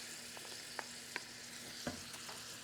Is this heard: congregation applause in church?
no